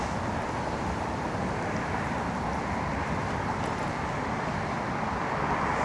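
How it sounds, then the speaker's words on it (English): Steady wind buffets the microphone during a city bike tour with a continuous broad rumble and hiss, unchanging throughout, with faint traffic-like noise mixed in. "Oh, it's pretty windy."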